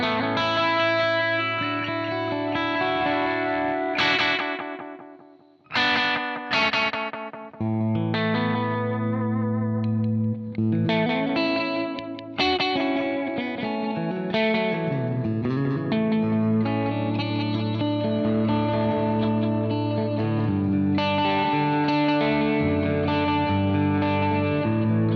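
Electric guitar run through a Faux Reverb effects pedal, sustained chords and notes with a lush chorus-like shimmer and washy trails, playing loud and continuous with a brief drop partway through.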